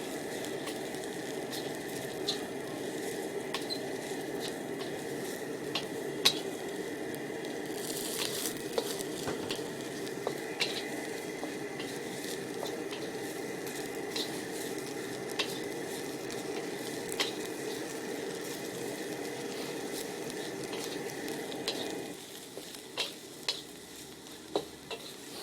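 Wombok cabbage chars in a very hot pan for Hokkien mee, giving a loud, continuous sizzle with stirring scrapes and clatter; it drops slightly quieter near the end.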